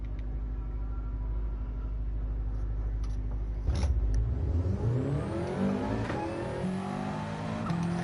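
A Subaru WRX race car engine in Gran Turismo 7 drones steadily, then revs and climbs through rising gear pulls, loud and close with no talk over it.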